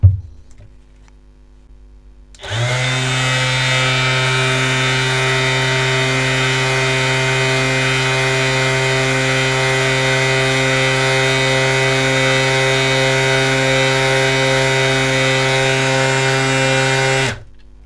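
DeWalt DCW10 18V cordless orbital sander switched on at its lowest speed, a steady close motor hum and buzz starting after a couple of seconds of quiet and running evenly alone.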